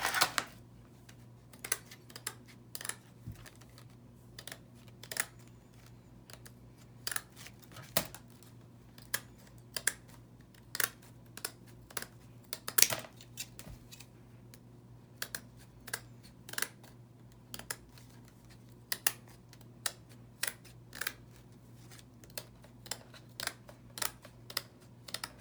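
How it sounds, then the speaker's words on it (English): Scissors snip through plastic canvas grid for a craft flower, giving quiet, sharp clicks spaced irregularly across the stretch against a faint background hum. "So now I'm going to cut out the plastic grid."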